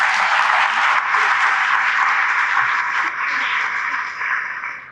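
A large audience claps steadily in a hall at a school science-city event, a dense, continuous wash of applause holding at a loud level throughout and easing slightly toward the end.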